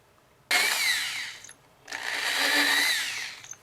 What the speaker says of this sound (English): So I've successfully drilled 4 holes without going through the carpet or messing up my pedal finish.